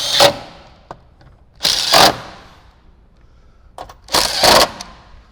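Three separate bursts of ratcheting on bolts fastening a Rockford Fosgate Stage 5 speaker setup into a 2018–2023 Jeep JL Wrangler, close up, each lasting about half a second, with quiet pauses between them and no talking.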